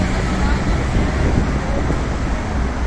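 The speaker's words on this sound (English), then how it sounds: "So I'm aware it's a bit windy, sorry about that, guys." Steady, loud wind buffeting a microphone outdoors on Independence Avenue in Minsk, Belarus, a broad continuous rumble and hiss with no pauses.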